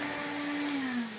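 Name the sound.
homemade cordless 20v brushless Hoover Hooverette vacuum running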